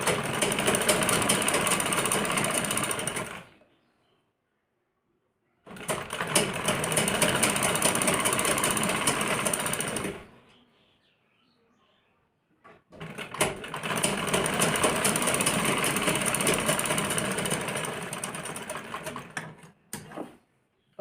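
An electric sewing machine stitching along the edge of a blouse runs in three long, steady whirring bursts of a few seconds each, separated by short silent pauses.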